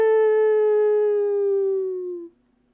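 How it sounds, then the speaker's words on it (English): A single wolf howl during a Curse of Strahd tabletop game session, one long clear note that holds and slowly falls in pitch before fading out abruptly, heard alone with no talking. "It was the howl of wolves if you couldn't hear it."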